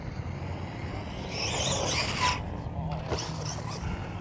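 An ARRMA Quake 223s brushless 2WD RC monster truck on sand, a whining motor rising and falling in short bursts with some spinning-tire scrub, moderately close under a steady background wash.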